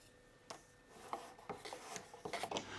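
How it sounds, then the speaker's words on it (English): Sanding a painted wooden furniture surface by hand makes a quiet series of short, scratchy rubbing strokes, irregular and close, growing slightly busier toward the end. "Lightly rub down before painting so that all irregularities are removed"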